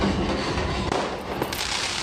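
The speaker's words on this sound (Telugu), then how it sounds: "చాలామంది టపాకాయలు పేల్చుకుంటా కూడా జ్యోతి తీసుకొని వెళ్తూ ఉంటారు." Firecrackers burst during a temple procession carrying a lamp to the Vijayadurgam goddess shrine, a dense, continuous crackle with dull thumps rolling through a noisy outdoor crowd.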